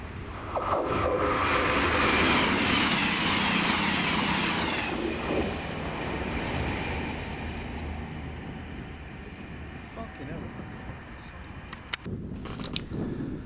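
A Cross Country Class 221 diesel passenger unit, 221 134, passes Drem station on a service from Edinburgh to Bristol, a loud close rushing roar building then fading into a steady rumble, with a sharp click near the end.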